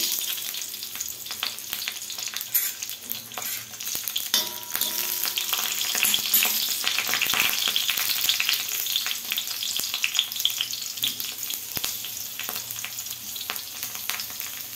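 Seven or eight green chillies spluttering in a ladle of hot oil for kharda chicken, a dense continuous crackling sizzle with occasional sharp pops and stirring scrapes, close and loud, no voices.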